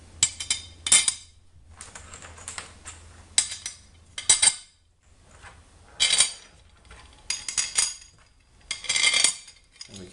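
Metal bolts drop one after another through a CNC router gantry plate on a Zeus router kit, a series of sharp metallic clinks and rattles spaced by quiet pauses.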